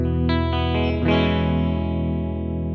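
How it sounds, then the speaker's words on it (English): Electric guitar with Lambertone pickups played through the plate reverb of an Alexander Space Force pedal: a few plucked notes and chords swell into a lush, sustained wash that rings and slowly decays, loud and close with no talking. "So it's just a really lovely sounding plate reverb."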